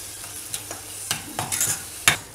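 Cauliflower Manchurian being stir-fried in a pan just after soy sauce is added, with a soft continuous sizzle broken by several sharp spatula scrapes and clinks.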